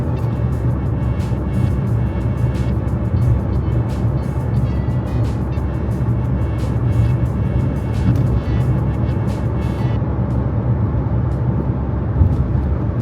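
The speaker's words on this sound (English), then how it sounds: "I'll switch to the 6th gear so you can hear the noise inside the cabin." Cabin noise inside a 2011 Ford Focus cruising at highway speed in sixth gear, a steady broadband engine, road and wind roar throughout, constant and close, no talking.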